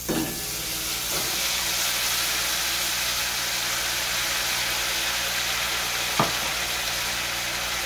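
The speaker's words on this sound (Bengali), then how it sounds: "ওই মশলাটাকে আমি তেলের উপরে দিয়ে দিচ্ছি" Ground spice paste of ginger and cumin hits hot oil in a pan for a fish curry, giving a steady, dense sizzle throughout with a couple of brief clinks from a utensil.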